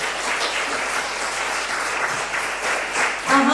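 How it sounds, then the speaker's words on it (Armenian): A seated audience at a cultural event claps for a young performer and painter, a dense, even burst of applause heard up close that holds steady throughout, with a voice briefly rising at the very end. "Ծափահարենք Աղավնիին։"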